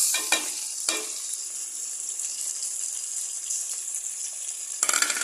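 Ground white pepper and dried chillies go into a frying pan, bringing a faint, steady sizzle with a few sharp rustling bursts at the start and end as the spices land and are stirred.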